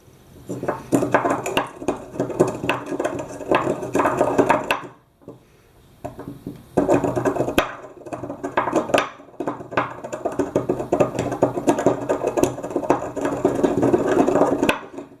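Cinnamon is ground by hand for incense on a wobbly table over carpet. Loud, rhythmic grinding strokes carry a woody, scraping knock, with a brief pause midway before the steady grinding resumes.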